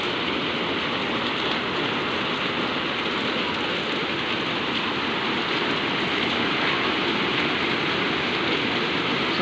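A downpour of heavy rain in Pasig, a thick unbroken roar of drops drumming on surfaces nearby, steady and loud from start to finish without any talking.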